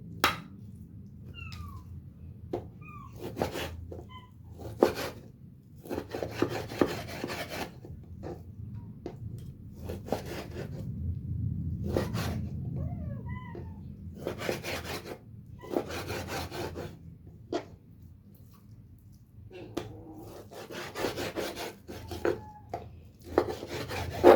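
A knife cuts beef into pieces for kaddu gosht, beef cooked with bottle gourd, giving repeated sharp chopping strokes in an irregular rhythm against a low, steady room background.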